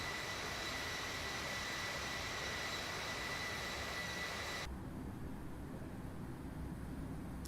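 Airliner engines in a flight simulator game roar as a steady, loud broadband rush during the climb, then the upper hiss drops away abruptly partway through, leaving a duller, continuous rumble with no speech.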